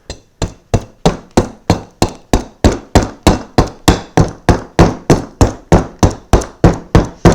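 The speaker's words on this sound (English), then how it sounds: "What I'll do with this is I will take my hatchet and I hold it" Hatchet repeatedly striking a block of local cottonwood while roughing out a duck decoy, about twenty sharp, evenly spaced close chops in a steady rhythm, with no talking.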